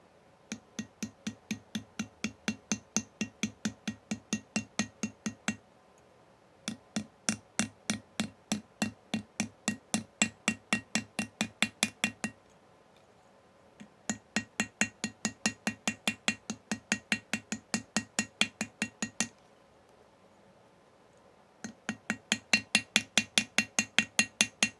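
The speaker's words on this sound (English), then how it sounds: "Switch over to the hammer." A hammer taps tube rivets in steady, quick, bright metallic strikes, grouped into four long runs with short pauses between them, close by and with no talking.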